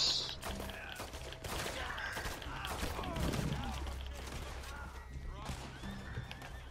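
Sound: horse neighing in video game Red Dead Redemption 2

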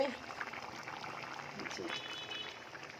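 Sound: fish and potato curry bubbling as it boils

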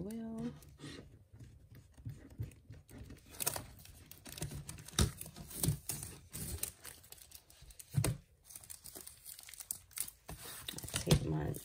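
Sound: tape being pulled and stuck down around an embroidery hoop

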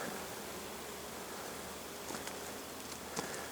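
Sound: honeybees humming in apple orchard

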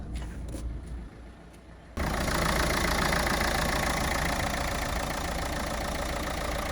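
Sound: diesel car engine idling

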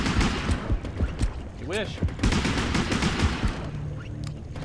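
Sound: gunfire in the video game Depth

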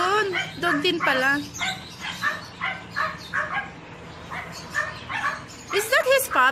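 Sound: dog barking at a pet shop

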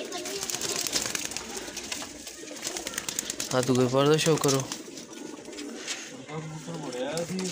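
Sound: pigeons cooing

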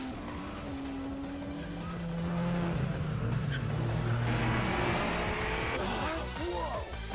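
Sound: race cars approaching the final corner in Initial D video game

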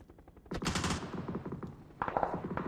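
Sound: gunfire in the video game PUBG

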